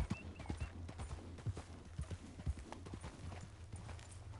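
Horse hooves clopping on a downhill path in the Red Dead Redemption II video game, a quiet, slightly irregular walking clip-clop of individual hoofbeats with soft tack rattle between them.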